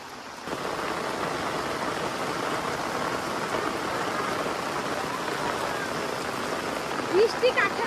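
Heavy monsoon rain pours down steadily over a rural home courtyard, a loud, dense, unbroken hiss of drops after a quieter first half-second, with a few brief sharper sounds near the end.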